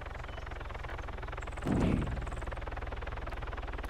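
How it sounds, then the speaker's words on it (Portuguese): A helicopter in the video game Arma 3 hovers overhead, a steady low rotor thrum with a regular beating chop that holds for the whole stretch and swells briefly midway. "o helicóptero tá aqui em cima de mim"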